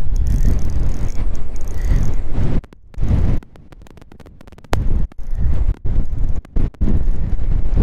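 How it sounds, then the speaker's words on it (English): Strong wind buffets the microphone in heavy gusts that cut in and out, leaving brief quieter gaps between roaring bursts, at night on Lake Erie while walleye fishing. "It's windy"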